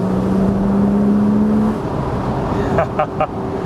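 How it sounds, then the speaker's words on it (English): A Porsche Boxster S driving with the roof down gives a steady, close engine and exhaust drone that stays even throughout, with a few brief tonal blips near the end. "when you've got the roof down, you can hear every little thing that's going on from the exhaust."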